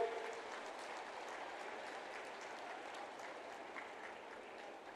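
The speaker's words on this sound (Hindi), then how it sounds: "दोनों हाथ उठा के, ताली बजा के।" A large audience claps in a steady, even wash of applause to welcome India's Prime Minister at a Chhattisgarh Rajyotsav 2025 gathering, faint and continuous throughout.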